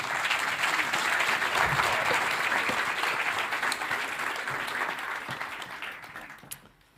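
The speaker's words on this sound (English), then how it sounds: "So let's give them a big round of applause, shall we?" Sustained applause from a forum audience for the panelists, a dense wash of many hands clapping at once that holds steady and then tapers off toward the end.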